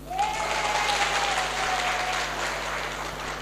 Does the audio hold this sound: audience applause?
yes